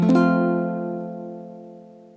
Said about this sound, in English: It's a partial bar chord. Sounds like this.